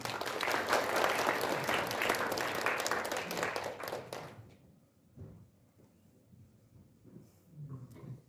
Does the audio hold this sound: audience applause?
yes